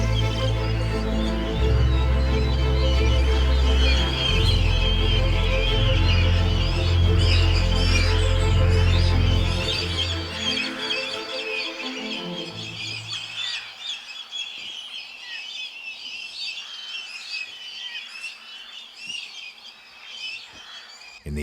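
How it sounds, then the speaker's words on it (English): Birds call and squawk in a dense, busy chorus in the Welsh autumn, loud at first over a heavy low rumble that drops away midway, leaving sharper, scattered calls. "As even more birds arrive, the competition intensifies."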